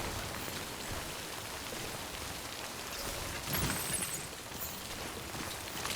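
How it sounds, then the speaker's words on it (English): Heavy rain falls in the video game Death Stranding as a steady, fairly faint wash of hiss and patter, with one brief louder splash or crackle midway through. "This is too much rain."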